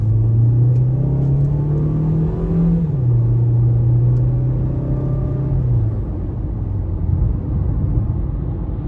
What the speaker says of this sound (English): I just floored it there basically